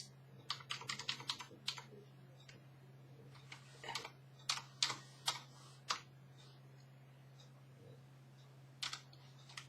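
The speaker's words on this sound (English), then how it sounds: "typing, as you might hear." Keys on a computer keyboard clatter in quick bursts of close, crisp clicks with irregular pauses, set against a steady low hum and no voices.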